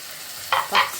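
Carrot, tomato and three colours of capsicum cooking in a pan for a vegetable rice dish, with two short bursts of stirring and sizzling over a steady low hiss, close and moderately loud.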